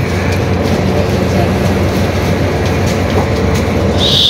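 Cabin of a moving Trans Jatim city bus in Surabaya, a loud steady rumble of engine and road noise with faint rattles throughout, with no clear voices.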